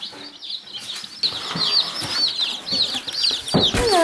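High, rapid peeping from several chicks, overlapping chirps with some rustling and flutter close by.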